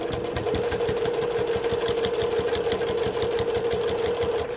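Sewing machine stitching a zipper and lining into a quilted diaper tote bag, running steadily at close range with a fast, even mechanical rattle and hum throughout, no talking.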